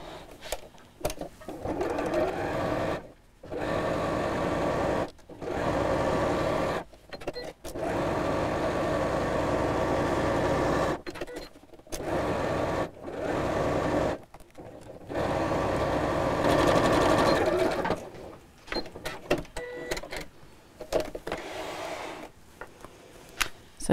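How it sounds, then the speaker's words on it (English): A sewing machine stitches down the sides and across the bottom of a messenger-style bag, running in steady whirring bursts broken by short pauses, close and clear with no speech. "we're going to sew down the sides and across the bottom, but leave the top open and don't sew over those cut out corners"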